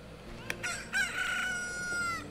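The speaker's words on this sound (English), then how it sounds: "Look, a chicken hatched from the egg you were incubating." A chicken hatches from an incubated egg in The Legend of Zelda: Ocarina of Time and crows one loud, drawn-out cock-a-doodle-doo after a couple of short clucks, standing alone without talking.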